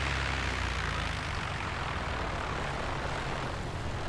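Propeller airplane engine in the Flight Simulator X video game, a continuous steady droning hum with a low rumble, holding an even level throughout with no talk.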